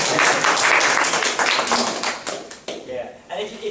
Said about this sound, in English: we'll give like a round of applause